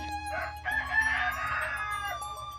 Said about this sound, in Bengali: আমার ভিডিওতে বয়স দেওয়ার সময় আমার মুরগিগুলো অনেক সমস্যা করে